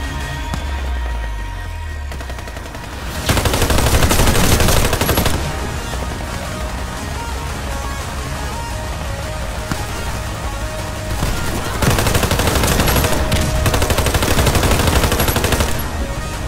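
Dense automatic gunfire in the online shooter Warface during a free-for-all match on the Widestreet map, loud sustained bursts close by with brief lulls between long streams of rapid shots.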